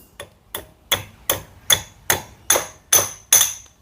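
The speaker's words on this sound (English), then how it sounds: "So I'm just going to get a second hammer, and Sam and I can bang that in" A hammer taps repeatedly on a metal part held in a vise during work on lowering a car, nine sharp, evenly spaced ringing strikes that grow slightly louder, close and alone.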